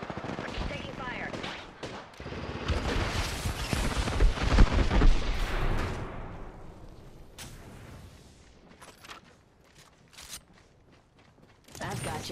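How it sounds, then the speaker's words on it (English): Apex Legends gunfire in a squad fight: dense, loud bursts of automatic weapon fire and impacts pile up for several seconds, then thin out into scattered shots and mechanical clicks, with a game voice heard over the combat. "The enemies are shooting."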